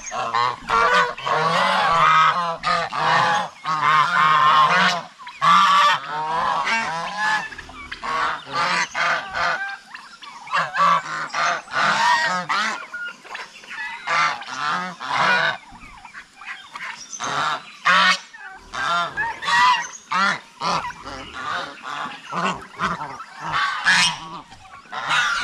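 Geese on a farm honk loudly and repeatedly in an overlapping flock chorus, close and continuous throughout with short gaps, and no talking.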